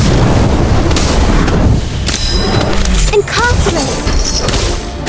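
Incendio fire spell cast in Harry Potter: Magic Awakened, a dense burst of whooshing, thumping effects and crashes layered over busy game noise, with chirpy tonal accents near the end.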